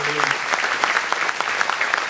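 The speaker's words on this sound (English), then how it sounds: "A nice round of applause, if you will, please, for Charles McGee" Dinner audience at an aviation legends event applauding Charles McGee, a dense, steady wash of clapping from a large crowd for a couple of seconds, with a faint voice at the start.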